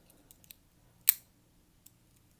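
The tiny 91mm scissors on a Victorinox pocket knife make one sharp, close metallic snip, with a few faint clicks of handling before and after in an otherwise quiet room.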